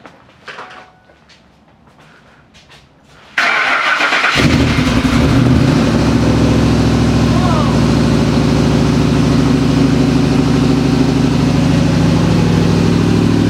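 A twin-turbo Ford F-150 engine with a newly redone exhaust roars to life after a brief quiet stretch, then settles into a loud, steady, rumbling idle close by.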